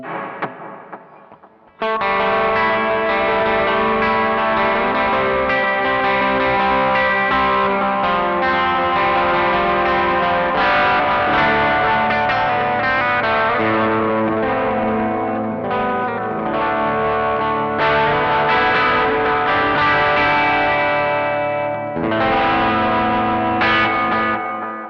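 Electric guitar played through a Caline CP80 Ragnarok pedal with delay and reverb together, a sustained, shimmering ambient wash of chords and notes with trailing repeats and long tails, steady and loud with no talking.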